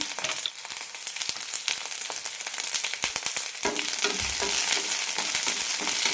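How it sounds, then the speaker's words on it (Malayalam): Shallots, garlic, ginger and curry leaves sautéing in hot oil for banana flower curry, a loud continuous sizzle with frequent spoon-stirring clicks and scrapes close by. "എണ്ണ വയ്ക്കാം ഉള്ളി നല്ല ട്രാൻസ്പെറൻ്റ് കിട്ടുന്നവരെ വഴറ്റിയെടുക്കാം"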